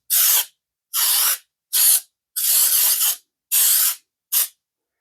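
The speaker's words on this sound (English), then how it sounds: "I have my spray here." Six bursts of cooking spray hiss in steady succession while greasing an oval baking dish, each lasting about half a second, loud and close with silence between.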